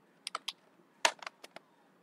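Fingers type on a computer keyboard in short irregular bursts, crisp individual key clicks close to the microphone with brief pauses between them and no voice.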